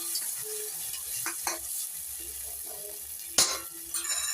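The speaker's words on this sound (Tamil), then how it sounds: "தக்காளி பேஸ்ட்டை நல்லா எண்ணெய் பெரிய வதக்கணும்." Tomato paste frying in oil in a cooking pan gives a soft, steady sizzle, interrupted by a few scraping stirs and one sharp clink of a utensil against the pan.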